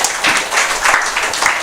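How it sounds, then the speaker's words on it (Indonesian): A church congregation gives a dense, continuous round of applause to God, loud and close, filling the whole short moment without speech. "Berikan tepuk tangan bagi Tuhan."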